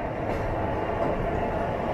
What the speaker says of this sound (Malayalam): നമ്മൾ ജസ്റ്റ് എഗ്മോർ സ്റ്റേഷനിലേക്ക് കയറുന്നു.